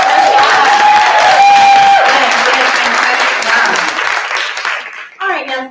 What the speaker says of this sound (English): Can we give another round of applause for our